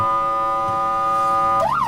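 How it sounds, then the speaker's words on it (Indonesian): An ambulance siren on a Malaysian road wails in a loud, steady tone, then breaks into a rising and falling sweep near the end, with no voices. "ketika dengar ambulan ini dari jauh, kereta ataupun mobil ambulan ini dari jauh"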